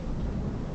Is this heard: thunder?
yes